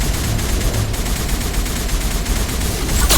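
Dense, continuous gunfire erupts during a firefight in Mass Effect: rapid automatic bursts overlap into a loud, unbroken rattle, ending in a heavier blast.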